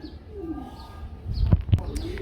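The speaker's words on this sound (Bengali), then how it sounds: "জিয়া ভাই এক জোড়া হোয়াইট কালার বোম্বাই দেখতে পাচ্ছি গো ভাই" Pigeons, including a white pair of the Bombai type, coo at a pigeon sale with soft low murmurs and a couple of louder close coos, over faint background chatter.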